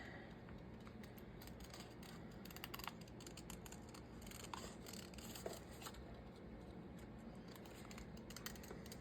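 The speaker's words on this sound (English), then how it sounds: "Let's just cut it out and see what it does. We will fussy cut it" Scissors fussy-cut around a paper shape, producing faint, irregular snips and crisp clicks scattered over low background noise, close to the microphone.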